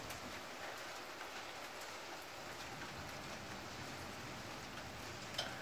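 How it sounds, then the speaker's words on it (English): Rain falls steadily outside as a soft, even hiss of drops on surfaces, heard from indoors at a low level with no talk over it. "You hear that? It's raining outside."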